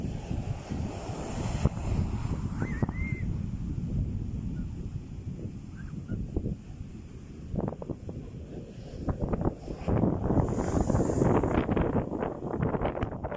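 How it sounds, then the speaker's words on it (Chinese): Big ocean waves at an empty beach where a kitesurfer rides, a steady loud wash of surf mixed with wind rumble on the microphone, swelling louder toward the end. "看这个海浪多大！"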